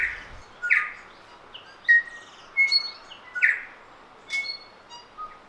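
Several birds chirp and call in a free-flight aviary at a wildlife centre, with scattered short tweets and whistled notes arriving in irregular bursts at moderate distance over quiet background.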